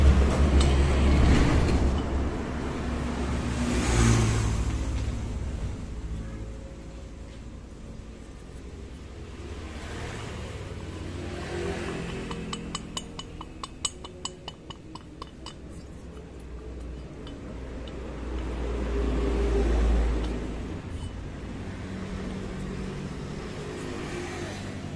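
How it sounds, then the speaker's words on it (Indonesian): A Yamaha Mio 125 M3 automatic scooter engine idles and revs with a rough, rapid metallic ticking knock from a worn piston, loud and close, rising and falling over the run. "Jadi ini bunyinya ngelitik ya."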